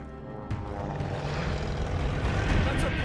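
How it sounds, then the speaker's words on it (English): Propeller aircraft drone from a plane approaching in the Call of Duty Vanguard video game, a steady loud engine roar that swells slightly toward the end amid battle noise. "That's a plane!"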